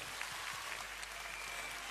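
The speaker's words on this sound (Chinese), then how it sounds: "请大家俾啲掌声佢" A concert audience at a 2001 pop show claps in a dense, continuous wash of applause, even in level and heard from a distance for a couple of seconds.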